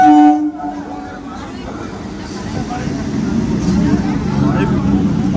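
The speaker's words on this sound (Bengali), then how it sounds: "আবার এটা আবার ডাউনের ট্রেনটা আসছে" A down local train on the Sealdah South line pulls in, its steady rumble building slowly and staying close and loud through the stretch, with a brief burst of nearby chatter at the start.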